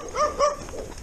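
Two short, close dog barks in quick succession on a snowy rural road, followed by a softer trailing yelp.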